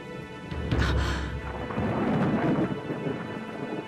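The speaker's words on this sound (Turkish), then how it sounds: "Şimşekten ödüm kopardı." Thunder rumbles loudly over steady rainfall, a deep roll swelling early and then fading into ongoing rain patter, with no talking.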